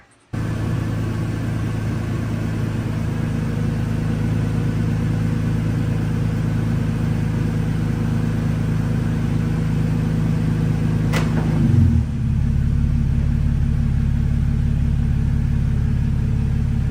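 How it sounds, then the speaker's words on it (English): A Toyota Tacoma pickup truck engine idles with a steady low hum and drone, then briefly revs near the end before settling into a deeper, rougher running rumble. "So let's fire up the truck."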